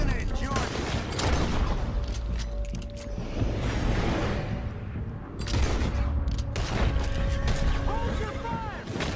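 Gunfire erupts in Red Dead Redemption 2, loud bursts and a barrage of shots fired close, mixed with crashing impacts and shouting voices.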